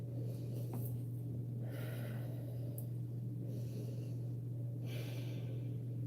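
During a beginner yoga breathing session, soft airy exhalations through the mouth come in several slow, faint breaths over a steady low hum.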